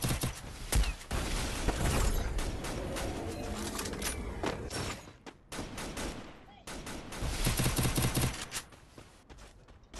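Rapid bursts of video game gunfire crackle almost nonstop with short gaps, under and between excited voices and other game sounds.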